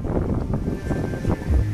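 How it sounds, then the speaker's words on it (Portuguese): Wind buffeting the microphone in gusts while fishing from a boat, a steady close low rumble with rustling over the whole short stretch. "Agora o vento tá demais."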